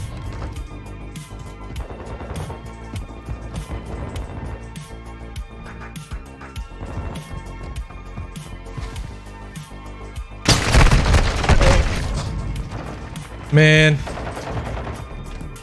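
Sniper rifle gunfire in a team deathmatch shooter game, with steady game noise and music broken by a loud burst of shots and a sharp crack near the end, as someone briefly speaks.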